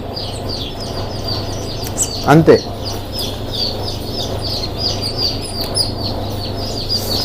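A young chick chirps repeatedly in high, thin peeps while being held for a Marek's vaccine injection, with a person talking steadily over it.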